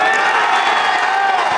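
Golf gallery in Abu Dhabi roaring for Rory McIlroy's hole in one, a loud, sustained wash of cheering and whoops filling the whole moment.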